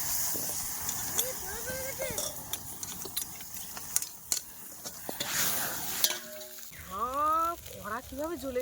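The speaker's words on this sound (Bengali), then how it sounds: "এই মাছ ভাজা একসঙ্গে দিয়ে রান্না করতে বলেছে, আর এইগুলো ভাজবো এখন।" Fish fries in a very hot wok with a faint hiss and scattered sharp clicks and clatter, while a voice speaks over it and dominates the later part.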